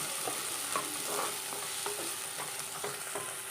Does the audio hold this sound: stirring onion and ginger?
yes